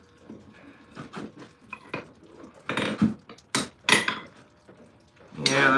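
A blacksmith's hammer tweaking the jaws of bolt jaw tongs on an anvil: light irregular taps, then a handful of sharp, ringing metallic strikes at uneven intervals, close and fairly loud.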